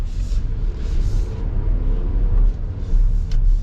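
A 2026 GMC Acadia Elevation drives over bumps, with a low, close road rumble and muffled cabin thumps rising and falling as the tires hit uneven pavement, and no one speaking.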